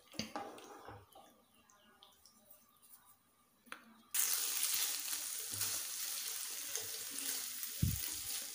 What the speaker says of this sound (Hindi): पैन हमारा गर्म हो गया है, यहाँ पर हम टिक्के तैयार कर लेते हैं।